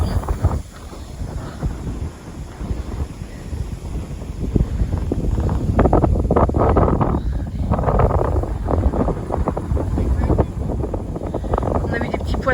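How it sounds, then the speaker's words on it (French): Strong wind buffets a boat out at sea, a steady, rushing roar pressing against the microphone throughout, swelling in the middle and never letting up. "J'essaye de me cacher du vent."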